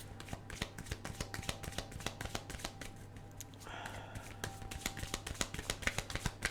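Lenormand oracle cards shuffled by hand, a quick run of soft papery flicks and taps close by and faint, with a brief smoother riffle midway and a low steady hum beneath.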